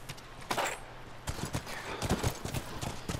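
Horses' hooves clip-clop in a quick, uneven rhythm inside the video game The Last of Us, loud and close, with several bursts of hoofbeats over a low steady hum.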